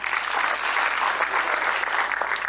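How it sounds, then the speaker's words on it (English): Steady applause from an audience at a business funding pitch event, dense continuous clapping filling the whole stretch without pause. "Give him a round of applause."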